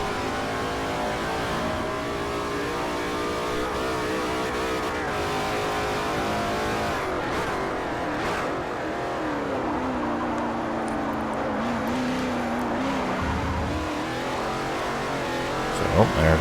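GT2 race car engines in the Forza Motorsport 4 video game drone continuously near the end of a multi-class race, pitch rising and falling through gear changes, with a voice heard speaking over the engines.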